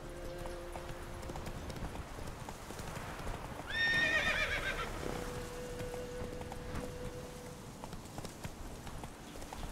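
Roach, the horse in the video game The Witcher 3, galloping with steady, faint clip-clop hoofbeats, and a sharp neigh partway through.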